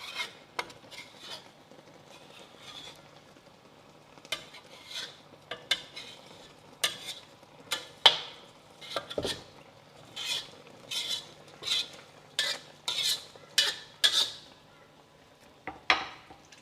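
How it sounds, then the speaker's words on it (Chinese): A metal spatula scrapes set rice paste from the sides of a wok. The scrapes come as sharp, irregular clinks and rasps, sparse at first and then in quicker bursts, over a faint background. "我们就拿一个铲子把它铲下来"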